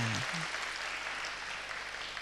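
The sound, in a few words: audience applause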